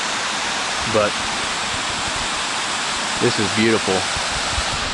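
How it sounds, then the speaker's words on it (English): Bass Creek rushes past at a trail crossing below granite walls, a constant broad roar of moving water, with someone speaking briefly over it twice. "We are at another creek crossing."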